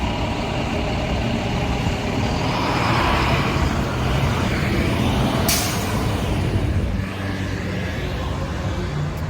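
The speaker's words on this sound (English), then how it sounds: "There's like trains and trucks on every block." Passing trucks and street traffic on a city block make a loud, steady broadband roar that swells and holds throughout, with no voices.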